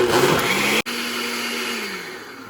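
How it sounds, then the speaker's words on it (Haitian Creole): Blender motor whirring loudly as it blends soaked djon djon mushrooms, cutting out for an instant, then resuming at a steady, slightly lower pitch. "on va blender"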